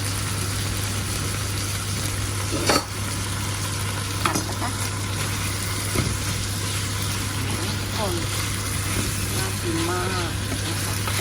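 Pork with southern Thai chili curry paste and long beans stir-fried in a pan at home, with a steady low sizzle, a few scraping stir strokes and clinks, and a constant low hum underneath.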